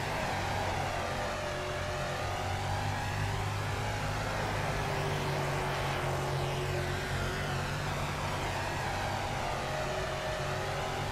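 A damaged dirt race car engine in World of Outlaws dirt racing, running at 73% health, droning in a steady sustained roar with a constant whining pitch throughout, loud and unbroken.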